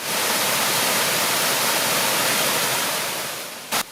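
Waterfall at Ricketts Glen pouring in a steady, loud, broadband rush that holds constant before easing slightly near the end, with no voices.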